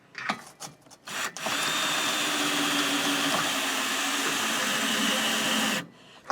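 A power screwdriver drives a screw into a boat's rub rail during guard installation, running as one steady, fairly loud whir for about four seconds after a few short bursts, then stopping.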